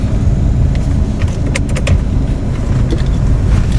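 A car climbs down a muddy mountain road at night, its engine and tyres making a steady, close low rumble with a few faint rattles and clicks from the cabin.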